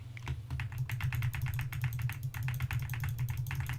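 Rapid, continuous clatter of computer keyboard keys during a Halo 2 session, dense irregular taps close and fairly quiet with no talk over it.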